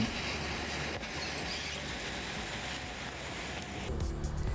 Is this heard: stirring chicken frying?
no